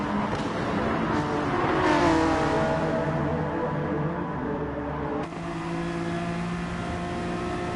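A BMW race car engine drives hard and steady through a run of corners at a race meeting, loud and sustained with a gear-change shift partway through and no talk over it.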